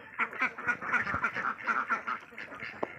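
A flock of egg-laying ducks on a Thai farm quacks in a rapid, overlapping chorus of nasal calls. The birds are close and fairly loud, with no voices over them.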